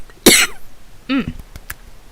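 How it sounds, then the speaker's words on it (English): A person coughs hard once, then lets out a shorter, throatier cough a moment later. Both are close and loud against a quiet room. "I just needed a cough."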